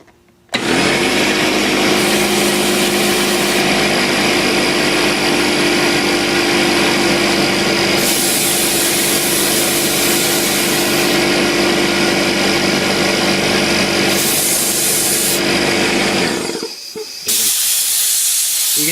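A loud Makita MAC2400 Big Bore 2.5 HP air compressor motor runs steadily with a harsh hiss and drone, pausing briefly near the end before starting again.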